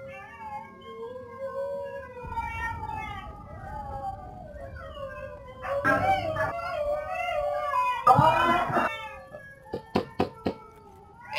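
Dog howling during play of the shooter game Sniper Elite 4: a long, wavering, rising and falling howl runs throughout, joined by yelps and sharp bursts near the end, fairly close.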